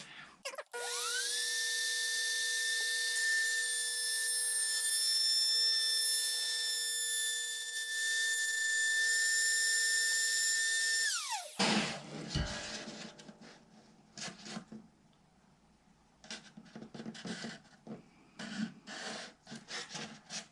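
A handheld router spins a cutter through a guitar's binding channel on a router sled, a loud steady high-pitched whine for about ten seconds that abruptly stops, followed by faint scraping and handling noises.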